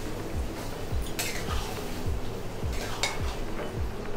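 A spoon scrapes and knocks rhythmically against a pan while curd chicken is stirred with masala, giving regular clinks over a soft background sizzle.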